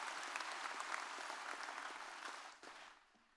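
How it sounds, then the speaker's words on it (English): A room full of graduates and families at the 2023 Wellington High School graduation applauding parents and grandparents, a steady, fairly distant wash of clapping that thins and fades out after a few seconds. "Everyone, kindly give the parents and grandparents in the room a big round of applause once again"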